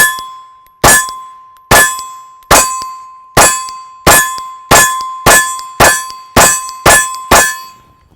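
Rifle or pistol bullets striking a steel shooting target: about a dozen loud, ringing metallic clangs, each with a short decaying ring, coming in a steady rhythm that speeds up slightly toward the end.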